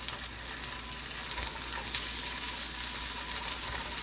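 Pierogi sizzling steadily in a hot pan as they fry toward golden brown, a continuous close crackle with a few sharper pops and no voices.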